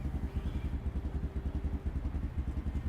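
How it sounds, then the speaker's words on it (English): A generator engine runs steadily in the Project Zomboid video game, a low, quiet, pulsing chug that holds at an even level throughout. "Now I found a generator, which you could probably hear the low"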